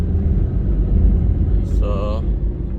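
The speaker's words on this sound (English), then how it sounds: "So fair amount of traffic." Inside a moving car on a midday Jamaican road, a steady low rumble of engine and passing traffic fills the cabin, with a brief higher-pitched tone breaking in near the end.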